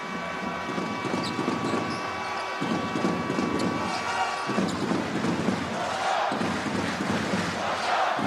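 Roaring crowd at a Jordan national team basketball game in Amman, a dense, sustained wall of cheering and chanting with rhythmic surges, no voice on top.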